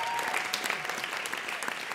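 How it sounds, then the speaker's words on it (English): Dense, steady clapping from an audience at a live show in downtown Los Angeles, a short continuous burst of many hands with no voices on top. "Get that applause."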